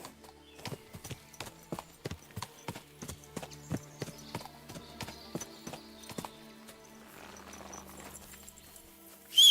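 A horse in the video game Kingdom Come Deliverance 2 walks with steady, evenly spaced clip-clop hoofbeats up close, then the hooves stop, leaving a soft rustling bed.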